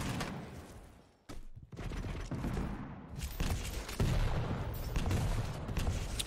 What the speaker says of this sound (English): Rockets coming out first.